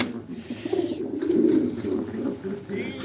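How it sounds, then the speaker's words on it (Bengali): Domestic pigeons coo continuously in low, rounded, rolling calls, close and moderately loud, with a faint background hiss and no talking. "আমার অল্প কিছু কবুতর আছে ভাই"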